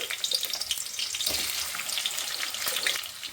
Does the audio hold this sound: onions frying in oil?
yes